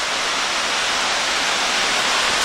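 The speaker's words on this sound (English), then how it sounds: "there is another like mini cascade down there, or mini waterfall" A small cascade on Overall Run in Shenandoah National Park gives off a steady, full rushing roar of falling water, close and constant, with no voices.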